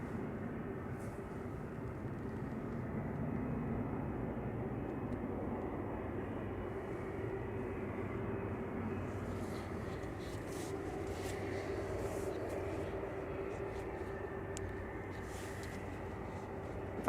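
A Boeing 737 MAX 8 departing Manchester Airport, heard as a steady, distant jet roar that holds evenly throughout with no talk.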